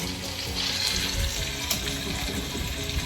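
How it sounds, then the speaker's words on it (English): Chicken sizzling in a pan for chicken cacciatore, a continuous close frying hiss with soft crackles and a moderate, even level throughout. "Oh, sizzle, sizzle. Not a huge sizzle, sizzle."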